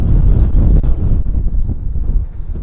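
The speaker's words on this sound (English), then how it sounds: "it's so windy we can't hear anything" Strong wind at Vancouver Airport buffets the microphone in a continuous loud, low rumble that drowns out everything else.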